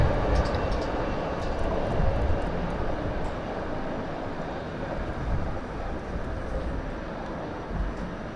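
An aircraft on approach to the runway at Southend Airport, a steady broadband engine roar that stays loud and close across the whole stretch, slowly easing off toward the end.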